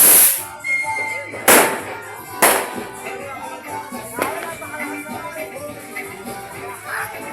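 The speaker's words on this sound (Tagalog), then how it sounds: "Grabe ang paputok." Loud New Year's firecrackers crack and bang at irregular intervals in a smoky street, a few big blasts with sizzling tails over a background of faint crowd noise.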